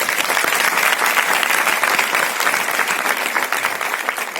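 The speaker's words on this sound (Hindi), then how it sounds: "अगर विश्वास हो रहा है तो जबरदस्त ताली बजाइए" Loud, dense audience applause at an Amway seminar, many hands clapping together in a steady roar that slightly thins toward the end.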